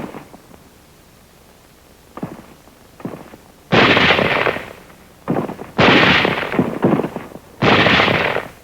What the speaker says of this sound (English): Elements of the 38th Division moving inland over rough hill country run into some sniper fire.